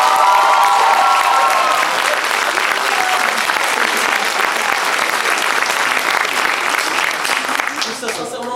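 A student audience at an improv challenge event claps in loud, sustained applause from start to finish, with a voice talking over it near the beginning and the clapping fading slightly at the end.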